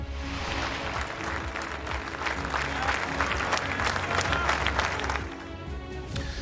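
A crowd applauds at the funeral of Silvio Berlusconi, Italy's former leader. The dense, sustained clapping swells through the middle and then thins toward the end.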